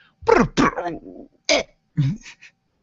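A few short, rough coughing bursts, fairly close, separated by brief pauses, with a thinner tail after the first pair.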